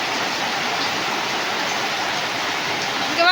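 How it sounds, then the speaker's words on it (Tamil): Heavy rain pours down in a steady, loud, unbroken hiss that fills the whole stretch, with no voices. "ஆனால் இன்னைக்கு பயங்கரமான மழை"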